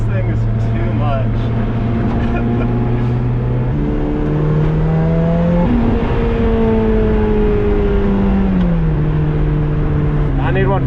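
A supercharged Lotus Exige four-cylinder engine drones loudly and continuously, its pitch climbing, then stepping up and down as the revs change, heard close up from inside the car.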